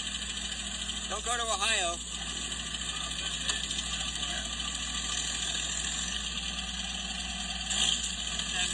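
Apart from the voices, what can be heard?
1969 Ford Falcon engine idling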